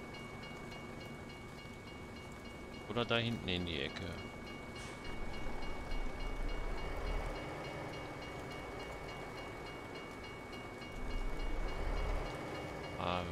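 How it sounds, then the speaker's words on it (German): A train passes in Euro Truck Simulator 2, a steady rolling rumble that swells and fades, with bursts of higher clatter or horn near the start and end, while someone speaks briefly. "Da kommt schon wieder der nächste Zug."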